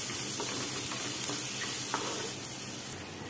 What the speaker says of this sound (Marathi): इथं कांदा आपल्याला चांगला लालसर येईपर्यंत भाजून घ्यायचा आहे